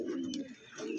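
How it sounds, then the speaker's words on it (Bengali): A male pigeon of the Andhra breed gives a soft, low coo up close, a short rolling call that fades briefly and swells again, with no voices. "এই একটা নর পায়রা দেখাচ্ছি"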